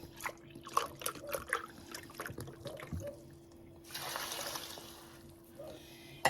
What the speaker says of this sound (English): She'd pour chicken stock in 1 can.